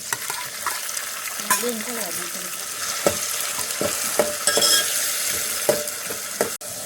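Curry leaves, chillies and tomatoes are tempered in hot oil for panipuri. A loud close sizzle runs under repeated spoon stirs and clinks against the pan, with no one speaking.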